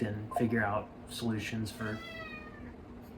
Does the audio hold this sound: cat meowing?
yes